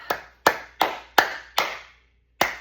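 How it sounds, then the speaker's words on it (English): Five sharp hand claps in a steady rhythm, a short pause, then one more clap, close and loud with no voices. "You can even clap,"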